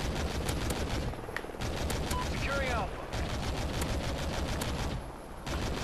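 Gunfire in the multiplayer video game Call of Duty Ghosts, rapid automatic bursts crackling almost continuously with short gaps, loud and close, with a voice speaking over part of it.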